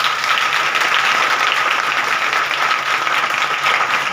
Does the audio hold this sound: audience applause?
yes